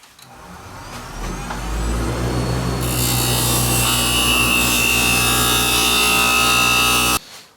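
A lathe parts off a wooden bead, with a steady grinding rumble of the spinning work that brightens into a loud, harsh scraping hiss as the tool cuts through, then stops abruptly near the end.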